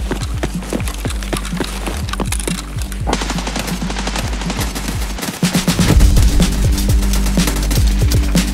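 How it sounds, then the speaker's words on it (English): Loud, rapid M4 rifle fire in Escape From Tarkov rattles in long close bursts of sharp shots, continuing almost without pause and growing heavier toward the end. "Loud M4."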